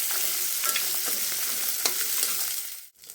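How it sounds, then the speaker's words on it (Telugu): Dried red chillies and tempering spices frying on a low flame, a steady close sizzle with light stirring scrapes and clicks throughout, cutting off abruptly near the end. "ఇవన్నీ చిన్న మంట పెట్టి ఫ్రై చేయాలి."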